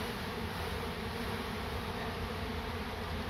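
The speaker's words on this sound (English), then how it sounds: "So we shake the bees, lots of the bees into the box" A dense swarm of honey bees being shaken from a tree cluster into a hive box during a relocation gives a steady, loud, close buzzing drone that holds without a break and has no talking.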